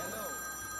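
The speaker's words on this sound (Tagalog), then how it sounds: "Telepono ko yan." A telephone rings with a steady, electronic bell-like tone throughout the short moment, moderately loud with a faint voice underneath.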